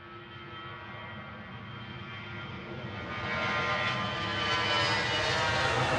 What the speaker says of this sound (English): EasyJet up next, just on the roll. This is an A320 Classic, it sounds like one.